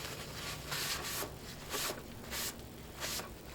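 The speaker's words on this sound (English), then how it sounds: "let's get that stained up and then sealed up" A rag swishes back and forth, wiping wood stain onto a kitchen cabinet toe kick, steady soft rubbing strokes in a rhythmic pattern, close and faint under room hiss.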